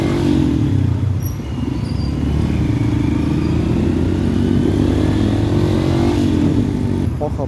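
A scooter engine runs close by in jammed traffic at a junction, a steady low rumble with slight revving under a continuous blend of surrounding vehicle noise.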